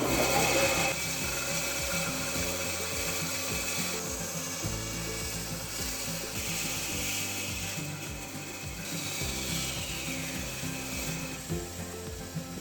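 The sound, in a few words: cutting wooden lure blank on antique bandsaw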